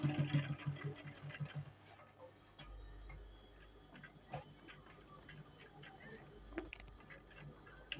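Sewing machine stitching a straight seam on trousers, with a rapid ticking run at first, then quieter intermittent stitching and soft taps; close and fairly quiet, with no talking.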